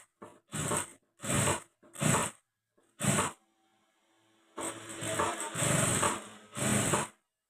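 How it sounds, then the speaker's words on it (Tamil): A sewing machine stitches blouse fabric slowly in short, stop-start bursts, up close and fairly loud, with a brief silent gap midway. "கீழே உள்ள துணி வந்து படிமானம் கொடுத்து மெதுவாக தைக்கணும்"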